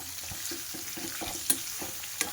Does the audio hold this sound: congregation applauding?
no